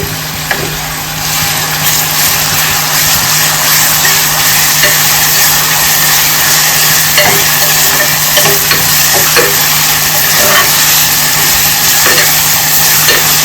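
Chopped onion frying with ginger garlic paste in a pressure cooker for chole; loud, steady sizzling fills the whole stretch, broken by occasional scraping stirs and light clinks of the spoon, close up and alone.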